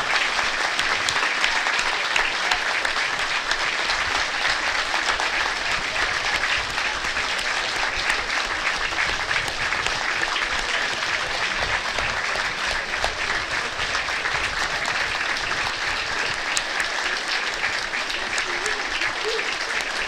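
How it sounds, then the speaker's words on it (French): A rugby crowd at a Seyssins/Vif match gives a minute of applause in tribute to a former club president, a sustained, dense roar of clapping that stays loud and even throughout. "une minute d'applaudissement"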